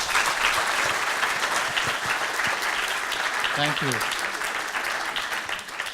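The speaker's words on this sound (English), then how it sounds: "I'd like a hand of applause for the people behind the scenes." An audience applauds steadily for several seconds, a dense, sustained clapping of a seated crowd in a hall, with someone briefly speaking over it partway through.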